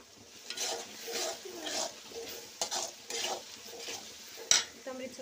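Coriander leaves sautéed in a pan of egg rice, with quiet, repeated spoon stirs and scrapes against the pan over a soft sizzle and a sharp metallic clink near the end.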